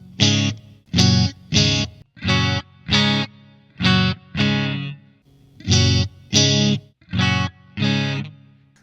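An electric guitar plays through a Blackstar Amped 2 amplifier with a distorted tone, giving a series of loud, sustained chords in a steady rhythm and separated by brief gaps, with no talk.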